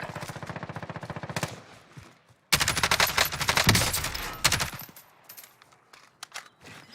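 Automatic gunfire in the battle royale game Warzone, rapid rattling bursts of shots that start off quieter, then cut in sharply loud, with scattered single cracks fading out toward the end.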